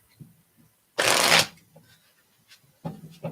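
A deck of cards gets one quick riffle shuffle, a loud, close half-second flutter standing out against near silence, with faint talk before and after it.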